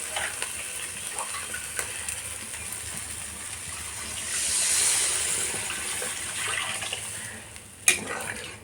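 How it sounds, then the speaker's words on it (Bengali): Water pours into a pan of fish curry with potatoes, a soft rushing gush swelling over a faint simmer and light stirring, ending with a sharp knock near the end. "এবার জলটা দিয়ে দেবো"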